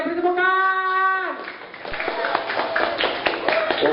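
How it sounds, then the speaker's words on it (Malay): Children clap together in a school assembly hall during a religious talk, a brief sustained patter of hands following a sung or drawn-out voiced tone at the start, with voices mixed in. "Okey, beri tepukan."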